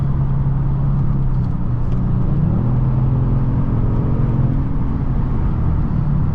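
From inside the cabin, a 2021 Kia Stinger GT1 AWD accelerates with a loud, continuous engine drone whose pitch rises and shifts gradually, alongside steady road rumble, with no voices.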